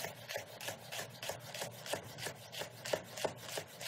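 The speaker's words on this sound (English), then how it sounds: "So I'm cutting them into slices about an eighth of an inch on a side" A knife slicing hot chili peppers on a cutting board, quiet rhythmic cuts of about three per second, each a soft scrape ending in a light tap, with no one talking.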